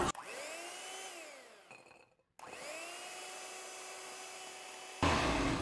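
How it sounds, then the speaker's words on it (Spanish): Electric hand mixer beating egg whites in a bowl: a whining motor tone that sags as the beaters load, cuts out briefly, then restarts and runs steadily before a harsher rattle at the end, moderately faint and close. "Y usamos nuestra batidora."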